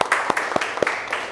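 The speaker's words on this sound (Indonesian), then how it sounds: "Oke, beri tepuk tangan." Schoolchildren in a classroom clapping together, a short burst of applause with a few sharper claps standing out, fairly close and brief.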